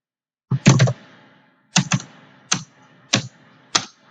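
Quick bursts of computer keyboard typing while JavaScript code is entered, five separate clusters of close, crisp key clicks with short pauses between them and no talking.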